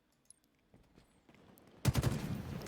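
Gunfire in a shooter video game, quiet clicks and movement first, then a loud burst of rapid automatic shots in the closing second.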